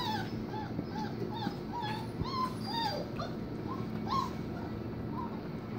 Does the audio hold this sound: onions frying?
no